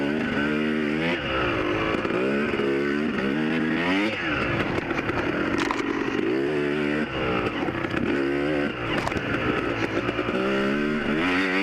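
Dirt bike racing a hare scramble trail course at Bundy Hill, its engine buzzing close and loud as the throttle rises and falls through corners, with other bikes faint in the background.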